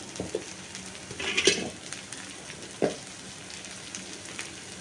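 Sliced raw banana for South Indian poriyal sizzles softly in a pan while a spoon stirs, with a few sharp scrapes and clinks of the utensil against the pan.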